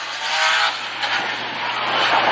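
A BMW drift car with a Loudmouth exhaust and Achilles radial tires runs at a Formula Drift qualifying event, its engine roaring loudly and steadily with a broad, harsh rasp and a faint tire-squeal edge, heard from nearby.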